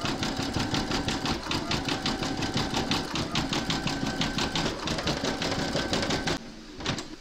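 An embroidery sewing machine stitching with silver metallic thread runs in a fast, even mechanical chatter of regular needle strokes, then stops abruptly near the end.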